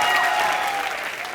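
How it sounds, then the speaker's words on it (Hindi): Studio audience applause on a Hindi comedy show, a dense burst of many hands clapping at once, loud at the start and tapering slightly toward the end, with faint voices underneath. "जोरदार तालियां हो जाए मेरी बेटी के लिए"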